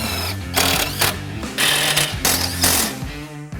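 A power tool drives a self-tapping screw into a Jeep JK 3.6L during a steering kit install, its motor whirring in several repeated bursts with brief pauses between them, close and loud.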